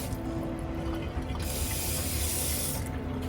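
A sensor-operated tap runs a steady, continuous stream of water that grows brighter and fuller partway through, with no voices over it.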